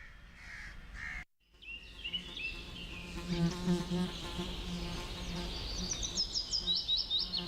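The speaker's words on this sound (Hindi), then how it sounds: "इतने मच्छर है यहाँ पे।" High, whiny insect buzzing from mosquitoes in a dirty outdoor spot, rising and wavering over a constant background, with birds cawing and brief voices mixed in.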